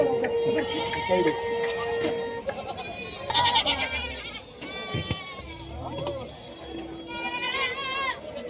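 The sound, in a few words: goats bleating at Pathardi livestock market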